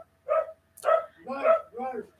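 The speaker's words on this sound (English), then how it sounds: "It's one thing to have the dog barking" A dog barks four times in quick succession nearby, short sharp yips with clean silence between them, heard indoors at a house.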